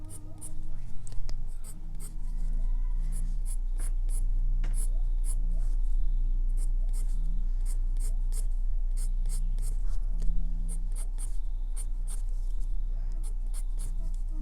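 A colored pencil scratches over marker ink on paper, with many rapid, short strokes in brisk, irregular bursts, close and clear over a low steady hum.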